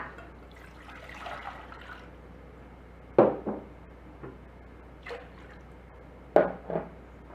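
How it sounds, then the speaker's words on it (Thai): Water pours into a cooking pot in a few short splashing bursts, with a faint trickle between them and a quiet room background. "มาเริ่มทำโดยการเทน้ำใส่หม้อที่จะต้มนะคะ"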